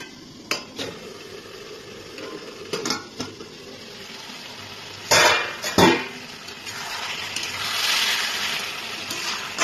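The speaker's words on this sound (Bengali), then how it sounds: "এবার ঢাকনাটাকে আমি একটু তুলে দেখব।" Metal clatter of a cooking pot lid being lifted while ridge gourd with egg and potatoes cooks, a few sharp knocks and scrapes spaced apart, then a soft sizzle rising near the end.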